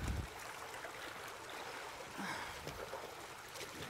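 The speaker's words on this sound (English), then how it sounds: "And we're pumping some water here." Pumped water rushes and trickles steadily through a Stansport sluice box during gold panning, a constant close splashing flow with no talk.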